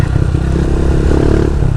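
Motorcycle engine labouring at steady revs on a muddy trail, loud and close with continuous low rumble and some clatter, no talk over it.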